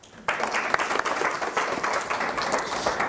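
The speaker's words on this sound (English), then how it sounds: "Give a round of applause." An audience breaks into applause after a brief quiet start, steady clapping filling the room for a few seconds.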